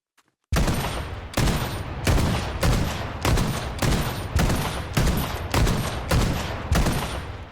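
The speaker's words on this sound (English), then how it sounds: "here we go with the shotgun." Shotgun fired in Fortnite, ten evenly spaced loud blasts about two-thirds of a second apart, each with a sharp attack and a short decaying tail, after a brief silent start.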